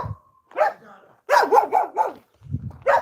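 A dog barks in a quick burst of four or five loud, close barks, preceded by a single bark and followed by another at the end, with low growling between, outdoors early in the morning.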